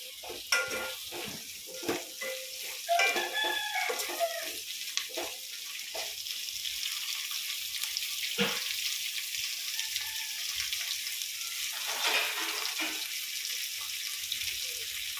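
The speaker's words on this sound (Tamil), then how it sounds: "காய் எல்லாத்தையும் போட்டுட்டு நல்லா கிண்டி விடணும்." Mixed vegetables for a dal sambar are stirred in a pot: scraping and clinking of the spoon come in irregular bursts over a soft bubbling, watery sizzle, close and moderately quiet.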